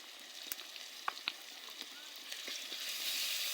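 Ginger garlic paste frying in a pan with green chilli and onion, a steady close sizzle with scattered crackles and pops, swelling slightly toward the end.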